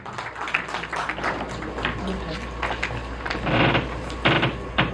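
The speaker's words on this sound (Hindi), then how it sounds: "जोरदार तालियां" Audience applause at an announcement ceremony for an India-UAE economic partnership conclave, a broad crackling wash of clapping that swells and fades over several seconds, with bursts rising toward the end.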